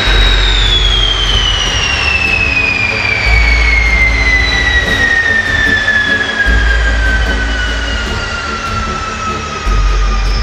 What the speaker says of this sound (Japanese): エンジン停止します。